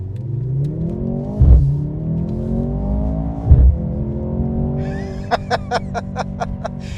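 A Mercedes-Benz C43 AMG in Sport Plus mode accelerates hard onto a highway, its engine note climbing steadily in pitch through two gear changes marked by sharp thumps, then a run of crisp clicks near the end.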